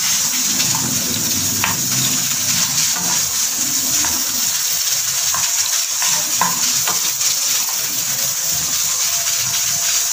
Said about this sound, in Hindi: प्याज हमारे गोल्डन हो गया, अब इसमें जीरा ऐड कर दें।